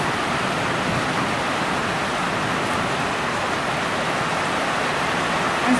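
Heavy rain pouring down in Texas, a dense, even wash of hiss and patter that holds steady throughout without pauses, close and loud, with no voices.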